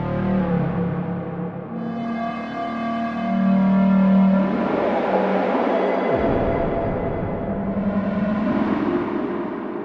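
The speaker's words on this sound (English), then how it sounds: "what you hear is this is a comb filter" Comb filter feedback delay effect in Logic Pro X, a loud, resonant, metallic tone with ringing harmonic bands that sweep and shift in pitch over about ten seconds, heard alone.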